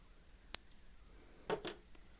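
Scissors snipping off excess beading string on a beaded curtain, one sharp quiet snip followed by a couple of softer cuts, faint and close.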